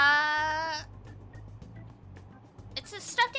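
Stuffed toy cat from Persona 5 Royal letting out one clear, loud meow when pressed, followed by soft game background music and brief voice sounds.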